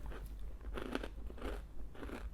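Crunchy pork cracklings chewed with a spicy pickled shrimp salad, several crisp crunching bites in a loose rhythm, close and quiet with no talking.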